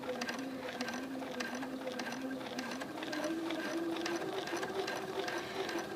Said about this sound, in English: Now this time I'm going to stitch straight back over that line.